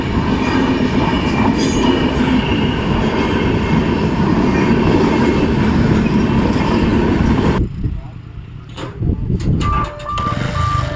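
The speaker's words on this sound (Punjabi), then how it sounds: "ਕਾਫੀ ਲੰਬੀ ਹੈ ਟ੍ਰੇਨ ਆ ਨਾ" A long train rumbles steadily past a level crossing at close range, wheels clattering continuously, before the noise drops away near the end and a faint beeping tone appears.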